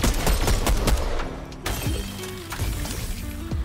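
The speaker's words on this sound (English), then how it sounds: "Little pistol action." Pistol shots in a Fortnite match ring out as a quick cluster of sharp cracks, loud and close, mixed with other game noises and a brief lull midway.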